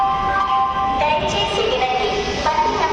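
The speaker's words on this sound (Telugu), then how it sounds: "మన ట్రైన్ అనౌన్స్మెంట్." A railway station platform announcement plays over loudspeakers for the Charlapalli–Chennai Central express, carrying a clear, tonal chime-like melody with steady sustained notes, loud and reverberant, with no voices close by.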